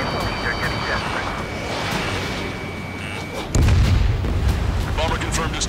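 Bombers open fire in a flight combat video game, dense rumbling gunfire and booms under aircraft noise, louder after a sudden burst midway while radio voices talk over it.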